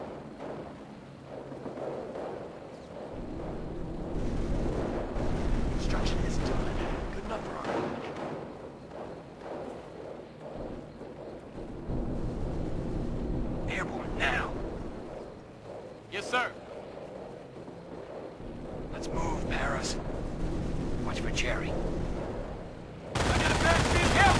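Gunfire crackles through a Company of Heroes battle in the Vierville mission, with repeated bursts of rifle and machine-gun fire, some nearer and some distant, over wind and rumbling background, while voices talk and give orders.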